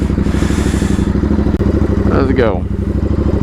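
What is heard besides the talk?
custom Royal Enfield motorcycle engine running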